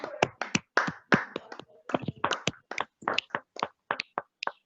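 Children clap for debate teams at a school event, a scattered, uneven run of sharp individual hand claps with brief gaps between them, close and distinct rather than a full roar.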